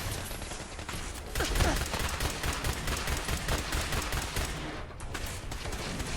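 Gunfire in the video game Fallout 4, rapid repeated shots in steady automatic bursts over several seconds, moderately loud and continuous with brief gaps.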